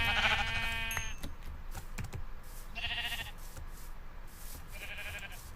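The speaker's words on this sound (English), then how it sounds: "Sheep in a tree." Sheep bleating a few times in Minecraft, with clicks and soft keyboard tapping in between; the bleats are fairly clear against a quiet background.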